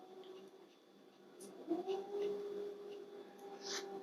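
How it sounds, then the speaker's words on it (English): Dogs howl faintly in the distance near Stirling, a long wavering tonal wail rising and holding over low background noise, with no one talking. "my dogs just started howling"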